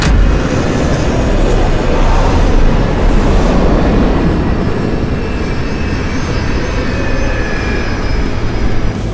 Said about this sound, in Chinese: 我们赶在了机场关闭前最后1分钟降落。